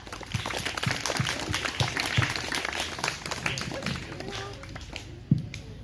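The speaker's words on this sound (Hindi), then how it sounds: "आइए जोर से ताली बजाएं और स्वागत करें गंगा मैया का" A crowd claps steadily, a soft continuous patter of many hands, mid-distance and fairly quiet, with a louder single clap near the end.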